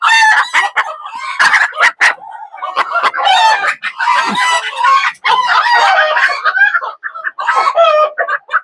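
Mottled American bantam chickens, one male and two females, crow and cluck close by in loud overlapping bursts, with repeated crowing calls dominating.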